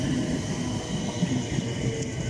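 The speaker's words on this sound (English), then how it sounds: "And arriving here is a 455852." British Rail Class 455 electric train arriving at Clapham Junction, a steady rumbling roll and whine of wheels on rails, moderately close and continuous with no talk.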